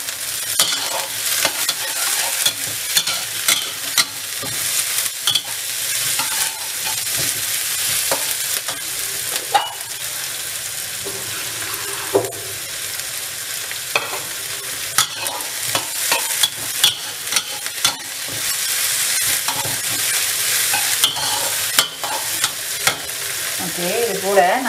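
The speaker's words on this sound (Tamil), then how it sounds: "வெங்காயத்தை போட்டுக்கிறோம்." Onions fry in a pan with chopped ginger and garlic, a steady close sizzle with frequent scraping and stirring clicks throughout, loud and continuous without speech.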